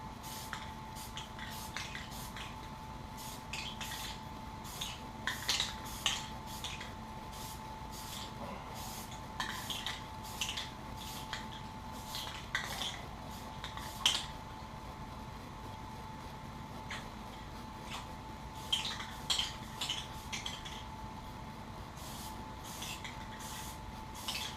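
An aerosol spray can lays down a light dusting coat of paint in short, soft bursts of hiss separated by pauses. The spray sounds fairly faint and close, over a quiet steady background hum, with no one speaking.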